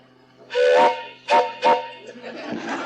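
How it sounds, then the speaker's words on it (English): A steam train whistle sounds in three blasts, one long and two short, loud and close, followed by a lingering hiss. "that's my train whistle"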